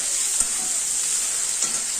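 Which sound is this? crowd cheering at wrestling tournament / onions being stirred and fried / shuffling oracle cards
onions being stirred and fried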